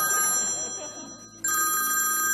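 A mobile phone ringing from inside a bag with a bright, repeating electronic ringtone that grows suddenly louder and clearer partway through, close by.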